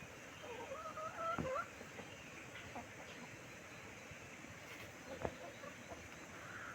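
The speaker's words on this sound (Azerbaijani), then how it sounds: "Bunun biri xoruzdur. İkisi çolpa." A chicken clucks faintly in a quiet yard where a rooster and two hens are kept, with a brief sharp knock or two and low background noise.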